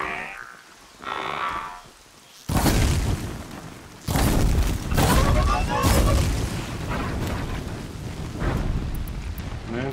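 Heavy gunfire and booming explosions from the video game Horizon Zero Dawn, loud and dense bursts starting a few seconds in and continuing in rough, irregular volleys to the end after a quieter opening.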